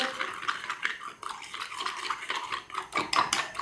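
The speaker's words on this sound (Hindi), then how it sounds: "इसको थोड़ा सा मिक्स कर लेती हूँ लिक्विड चीज़ों को" A spoon clinks and scrapes against a bowl in quick repeated strokes, stirring food colouring into liquid ingredients for chicken lollipops, close and alone.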